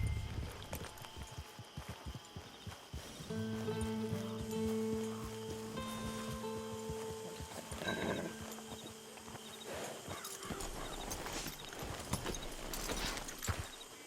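In Red Dead Redemption 2, a horse walks in a steady clip-clop of hooves on the ground, with a faint rain-like ambience and a tonal musical swell rising and fading partway through.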